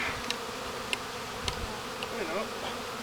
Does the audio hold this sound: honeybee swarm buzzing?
yes